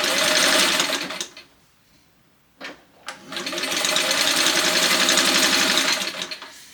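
A sewing machine stitches at speed with a loud, close, steady mechanical whir, stops briefly for a couple of clicks during a change to reverse, then runs again at a steady rate.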